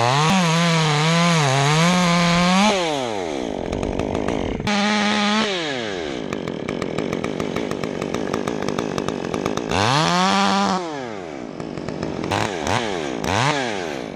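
A chainsaw cuts into a box elder tree, revving up and dropping back in several loud, close bursts between cuts, with no voices heard.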